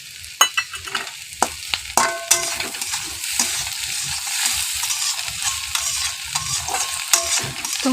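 Scrambled egg with masala stir-fried in a pan, a loud steady sizzle broken by repeated scraping strokes of a spatula, close up with no voices.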